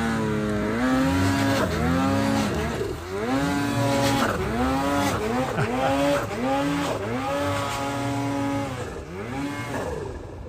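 A snowmobile ridden hard in the mountains at Sawtelle Mountain Resort, Idaho, its engine revving up and down in repeated surges, loud and close throughout.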